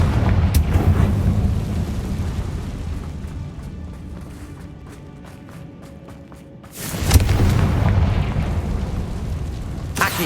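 Confringo fire spell blast in the Hogwarts Legacy game, a loud booming burst over a rumbling battle bed. A sharp explosive hit lands late and is followed by a sustained roar.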